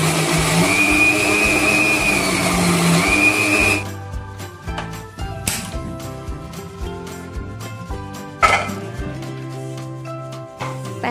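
A mixer grinder whirs loudly and steadily for about four seconds as it grinds roasted onion, roasted coconut, garlic and two small tomatoes into a paste. It then stops, leaving quieter clatter and tonal sounds.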